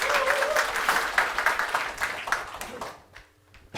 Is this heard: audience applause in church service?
yes